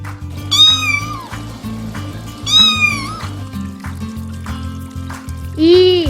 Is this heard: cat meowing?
yes